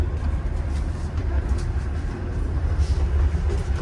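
A passenger train from St Petersburg to Moscow rumbles steadily from inside the carriage, a low continuous drone with faint rattles and clicks throughout.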